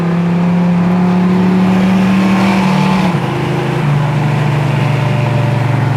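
The engine of a 1970 Chevy Nova SS idles loud and close on choke, with a steady rumble that drops in pitch as the revs settle.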